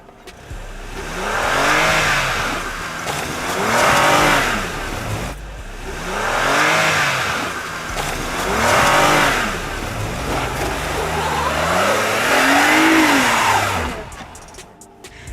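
A Toyota Highlander fitted with studded tires climbs a snowy hill, its engine revving loudly in repeated rising and falling surges as it struggles for traction near the top.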